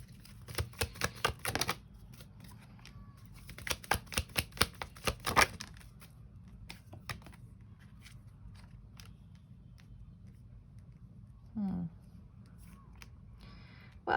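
Tarot cards are shuffled and drawn in two bursts of quick, crisp riffling and flicking, close and moderately loud, with a soft voice talking in between.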